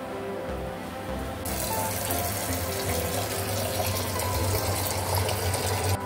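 Water runs from a tap into a vessel for a surmai fish curry, a steady close gush that swells and thickens after a moment and continues without a break.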